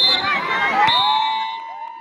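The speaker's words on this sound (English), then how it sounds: "the applause and ululation on the sidelines will bring community members together as they cheer" Sideline spectators at a community sports match in Zimbabwe cheer and ululate, high wavering cries rising over a noisy crowd before fading slightly toward the end.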